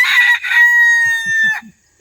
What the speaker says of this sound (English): they have chickens and roosters.